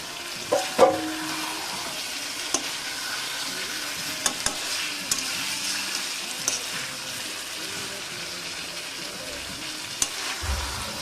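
Meat for biryani cooking in a pan in a home kitchen, giving a steady broadband sizzle and frying hiss, with occasional sharp clicks and scrapes of stirring over a faint background.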